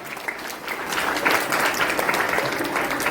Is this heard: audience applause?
yes